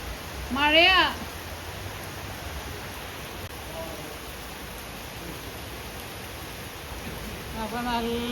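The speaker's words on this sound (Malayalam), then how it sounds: "അപ്പോൾ നല്ല മഴ പെയ്തുകൊണ്ടിരിക്കുകയാണ്." Heavy rain keeps falling at a house in Kerala, a constant wash of hiss and patter, broken by a brief spoken voice at the start and faint voices near the end.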